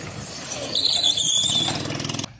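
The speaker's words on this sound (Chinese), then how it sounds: "这里的车呢除了是用柴油引擎之外啦，它的构造独特，是很容易就可以做到漂移甩尾的" A diesel-engined drift go-kart squeals its tires as it slides, a loud close screech riding over a buzzing engine drone that swells and then cuts off abruptly.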